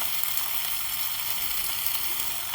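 Onion, green chili and ginger fry in a pan, giving a steady soft sizzle throughout with no talking, and a brief clatter right at the end.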